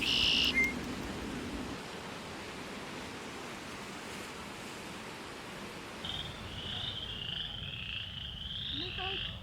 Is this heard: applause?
no